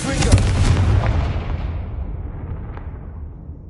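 A Confringo spell blast goes off in a Hogwarts video game: one loud, booming explosion at the start that rolls away and fades over a few seconds, with no talking.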